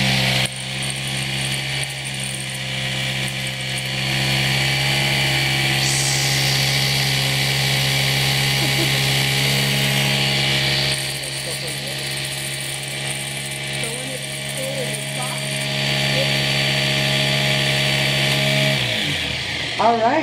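A home sewing machine runs in long steady mechanical whirring stretches, loud and close, pausing briefly and resuming, then stopping at the end.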